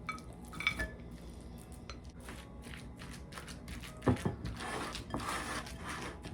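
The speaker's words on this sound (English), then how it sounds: "Let's press it into our pan, or I guess baking dish, since it's not really made out of metal." Rice pie crust mixture pressed by hand into a non-metal baking dish, giving soft irregular scraping and tapping sounds with a few sharper knocks, close and fairly quiet throughout.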